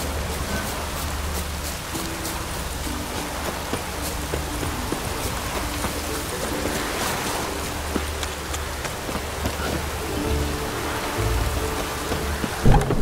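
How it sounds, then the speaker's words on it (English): Steady, dense rain hisses through a rainy scene in The Witcher 3, with low rumbling underneath and scattered sharper drips and taps; it stays fairly constant, with no voices. "Lots of fuss over lots of rain."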